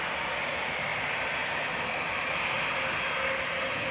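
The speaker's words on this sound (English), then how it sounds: "EasyJet to Geneva going now, flight 2183." An EasyJet jet airliner, flight 2183, departing Manchester Airport for Geneva, makes a soft, even engine rumble heard from a distance, steady and without voices.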